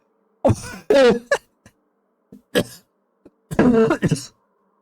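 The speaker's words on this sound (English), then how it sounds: "that made me cough" A run of harsh, close coughs and throat-clearing sounds in several bursts, with short gaps between them.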